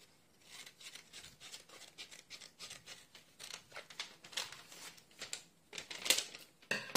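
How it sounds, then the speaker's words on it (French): Scissors snip at a small paper label in short, close, quiet cuts and rustles, irregular and crisp, with no talking. "Alors je vais découper ma petite étiquette."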